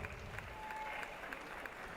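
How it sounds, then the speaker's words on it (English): Audience applause fills the pool hall at a swim meet, a steady dense clatter of clapping from start to end with a little crowd noise mixed in. "Big cheers, please."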